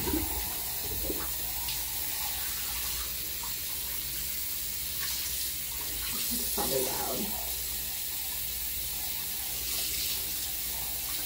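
Water runs steadily from a tap while dyed hair is rinsed out at home, a continuous close hiss of flowing water with small splashes and shifts, no voices over it.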